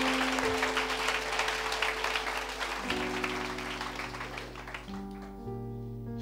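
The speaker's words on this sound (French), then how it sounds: "Est-ce que tu peux encore acclamer le Seigneur?" A church congregation applauds the Lord with steady, dense clapping over sustained keyboard chords that shift a few times, lasting throughout.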